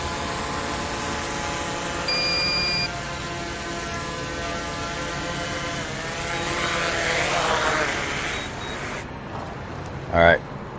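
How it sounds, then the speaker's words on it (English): A police drone hovering over a barricaded-suspect scene gives off a steady, close propeller whine whose layered pitch shifts and rises as it maneuvers before coming down for a battery change. "We're going to bring the drone down and change out our battery"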